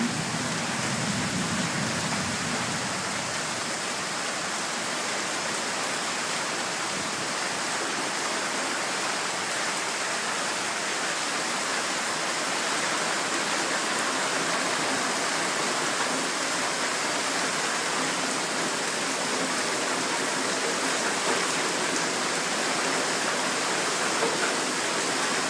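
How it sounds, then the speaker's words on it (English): Steady, dense rainfall hisses evenly throughout, a continuous wash of drops with no voices. "Today starts with a lovely little rain."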